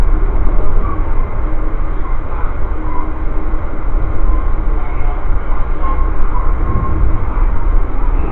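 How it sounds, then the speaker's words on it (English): A train rumbles steadily past, heard from on board an Amtrak passenger train, a loud continuous roar of rolling wheels and rushing air with no talk over it. "oh look, another train"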